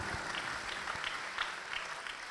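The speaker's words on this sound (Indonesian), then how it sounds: "Tepuk tangan." An audience at a Quran graduation gathering applauds, a soft, distant, continuous patter of many hands that stays faint and level throughout.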